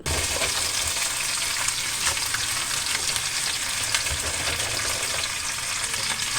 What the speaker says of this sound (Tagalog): Okay na po ang pagkakagisa, nilagay ko na po yung alimasag.